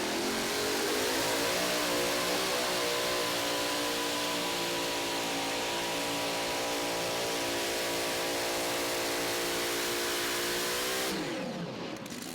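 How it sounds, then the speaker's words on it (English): Loud tractor-pulling engine roaring steadily through a straight pass by a South Dakota puller, its pitch climbing and holding high under heavy load for several seconds before cutting off abruptly near the end. "The tractor normally hooks up very well and makes a good straight pass"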